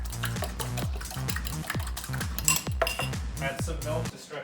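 A fork whisks eggs against a bowl in a home kitchen in a fast, steady rhythm of close clinking strokes, with no talking.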